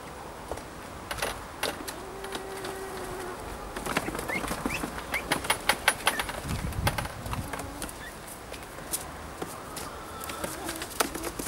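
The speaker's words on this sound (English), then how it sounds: "still getting buzzed by bees here" A swarm of honeybees buzzes around a hive box in a suburban backyard, a steady hum broken by many quick passes close by.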